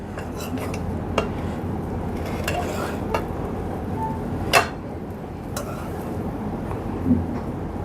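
Serving spoon scraping and clinking against a metal cooking pot as degi-style achari chana pulao is dished out, with a few sharp, scattered clanks over a low steady background.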